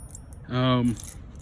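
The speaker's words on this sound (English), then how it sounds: "I just make sure that I take my keys out before I lock that door" Keys to a Schneider National semi truck jangle briefly in a short, close metallic rattle, broken by a brief voiced tone in the middle.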